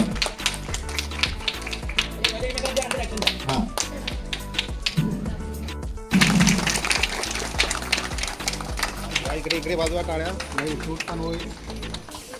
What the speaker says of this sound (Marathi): दोघांनी हा टाळ्यांचा गजर करायचा